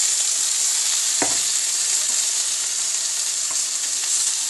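Ground spices, coriander powder among them, sizzle steadily in a frying pan for a Bengali chauli dish, a constant bright hiss with one brief clink of a spoon partway through.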